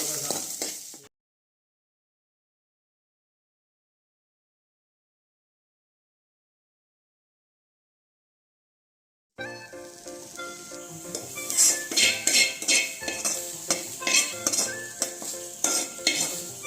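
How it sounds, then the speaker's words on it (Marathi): Onion, curry leaves, garlic and ginger fry in oil for a colocasia-leaf dish, a steady sizzle with scraping and stirring that comes in after a long silent gap and grows denser and louder toward the end. "आता तेल टाकून भाजायचं"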